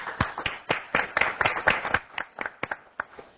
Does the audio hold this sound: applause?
yes